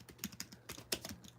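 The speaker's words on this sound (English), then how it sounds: "Typing in law and order and everything, bro." Someone types on a computer keyboard in quick, irregular bursts of crisp clicks and taps, close by and fairly quiet, with no talking over it.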